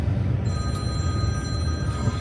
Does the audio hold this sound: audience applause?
no